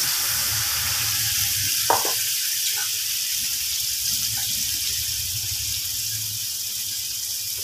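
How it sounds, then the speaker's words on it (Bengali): Water from rinsing the spice bowl is poured into soybean masala already frying with cashews and melon seeds, setting off a loud, steady hissing sizzle with a few soft clinks of a spoon against the pan. "এর মধ্যে মশলা ধোয়া বাটির জলটাও দিয়ে দিলাম।"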